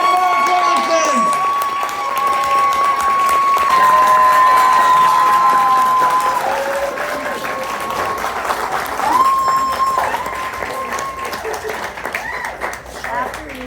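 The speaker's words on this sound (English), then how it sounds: "clap like you've never clapped before for Melissa Auf der Maur and Mark Ronson" Audience at a book talk in Brooklyn Brewery, NYC, applauding and cheering with loud, dense clapping and whoops that slowly fade, while voices carry over the crowd.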